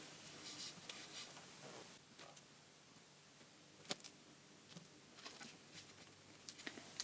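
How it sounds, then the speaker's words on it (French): A blade cuts around a heart shape in a thin layer of polymer clay, making soft, sparse scraping and ticking taps close by with small sharp clicks scattered through a quiet background. "Ensuite avec la lame, vous allez juste la mettre sur le cœur, comme ceci, et couper autour pour que ça soit aux bonnes mesures."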